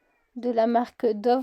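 Cat meowing in two drawn-out cries, close and clear, heard along with someone speaking French.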